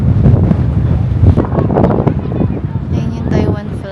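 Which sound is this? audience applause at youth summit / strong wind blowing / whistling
strong wind blowing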